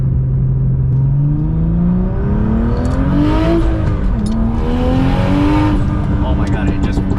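A turbocharged BMW E36 engine of about 1000 hp revs loudly and rises in pitch in a long climbing sweep, dips, then climbs again, with a crisp exhaust rasp throughout.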